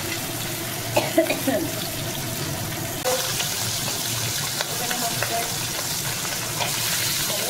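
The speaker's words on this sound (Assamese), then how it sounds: "এনেই ধুনীয়াকৈ সিজি গৈছে বস্তুটো গোটেইকেইটা ধুনীয়াকৈ ফ্ৰাই হৈ গৈছে" Fish fries in a pan in an Assamese home kitchen, giving a continuous close, loud sizzle with occasional clinks and stirring sounds from a utensil.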